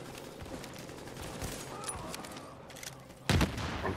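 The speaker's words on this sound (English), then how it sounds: "Well, I still have my assault rifle." Assault rifle fire in The Division, a dense crackle of shots over busy game noise, ending in one loud close burst near the end.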